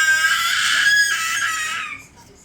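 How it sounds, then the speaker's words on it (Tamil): Someone shouts and wails loudly while walking around, a shrill, sustained child's cry that holds for about two seconds before fading. "ரொம்ப நேரமாக இப்படி நடந்து நடந்து சத்தம் கொடுத்துக்கிட்டு இருக்கான்"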